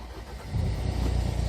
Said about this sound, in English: let's start the engine.